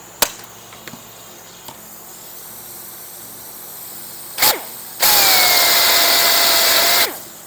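A power drill bores into the aluminum skin of a T-51 aircraft's auxiliary wing fuel tank in one loud, sustained burst of about two seconds, preceded by a few sharp taps and a brief whirr.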